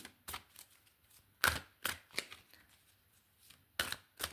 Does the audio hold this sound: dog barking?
no